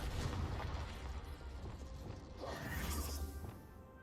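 The Confringo explosion spell from Hogwarts Legacy goes off as a fiery crashing blast, with booming bursts and crackling debris over a rumbling low end across a few seconds.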